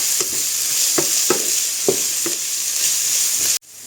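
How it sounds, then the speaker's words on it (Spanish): Onion frying over medium heat in a pan, reused after soaking bread, with a steady close sizzle and a series of scraping stirs at irregular intervals, ending abruptly. "en la misma sartén ponemos la cebolla. La vamos a dejar que se vaya dorando a fuego medio"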